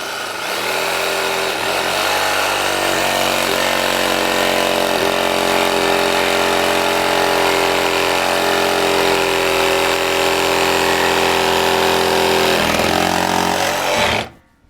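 A power saw fitted with a metal blade cuts into a wooden whisky barrel with iron hoops, whining loud and close at a steady pitch for about fourteen seconds before spinning down abruptly.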